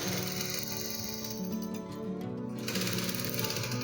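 A sewing machine stitches a half-inch seam on the inner label facing of a native shirt, a steady close whirring motor hum with a rapid needle rhythm running throughout, with no talk.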